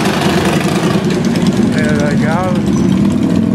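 Motorcycle engines rumble steadily at a bike festival in Skibbereen, a loud continuous low drone under a voice, with brief revving rises as riders pass close by.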